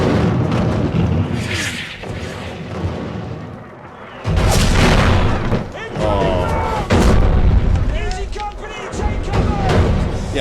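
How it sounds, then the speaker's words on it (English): Artillery shells explode in a World War II TV drama, with heavy booms and rumbling blasts that swell and fade, mixed with shouting from the scene and people reacting over it. "so it's artillery shells"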